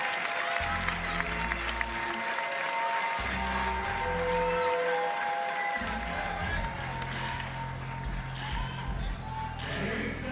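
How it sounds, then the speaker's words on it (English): At a men's bouldering final in Innsbruck, an arena crowd cheers and applauds as a climber runs onto the stage, a dense, sustained wash of clapping and shouting over pulsing event music. "He runs on, the crowd cheer him, of course"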